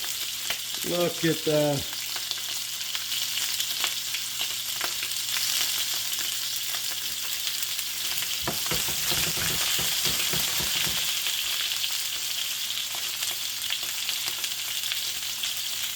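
Food sizzles steadily in a hot frying pan during a biceps-day meal prep, a continuous hiss throughout with a brief spoken comment near the start and some muffled movement midway.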